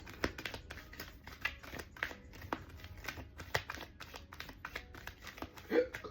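Rapid papery riffling and clicking of cards being shuffled, close by and fairly quiet, with brief bursts and a louder flutter near the end.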